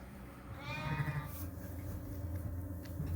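A Dorset cross ewe bleats once with a wavering call, faint and somewhat distant, over a low steady barn background with soft rustling.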